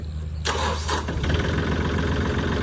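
A used Yanmar 39-horsepower tractor's diesel engine cranks and catches after a brief quiet moment, then settles into a loud, steady rumbling idle close by.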